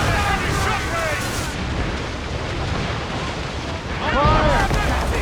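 Naval cannon volleys thunder from warships in Assassin's Creed Rogue, heavy low booms rolling under constant wind and sea noise, with a second burst of blasts near the end and shouted voices mixed in.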